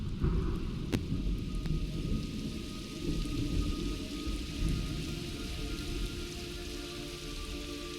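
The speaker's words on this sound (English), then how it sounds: "It's raining blood." Steady rain pours down in the video game Metal Gear Solid Delta: Snake Eater, with a low rumbling undertone and a couple of sharp crackles early on, no voices present.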